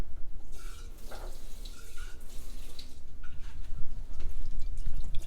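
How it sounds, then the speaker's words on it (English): Water runs steadily and sloshes while tomato jars are rinsed out in a home kitchen during chili making, a continuous close splashing with brief gurgles and no voices. "I'm going to add a little water to this tomato jars and rinse them out."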